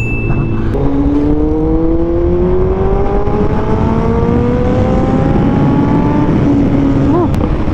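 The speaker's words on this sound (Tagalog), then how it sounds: "Instant power and acceleration." A Kawasaki ZX-14R motorcycle accelerates hard, its engine note climbing steadily in pitch over several seconds with a loud, continuous roar and no talking.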